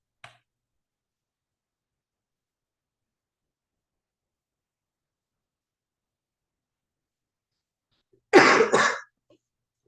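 Single short cough or throat clearing from a man unwell during an online session, close and sudden after a long stretch of near silence.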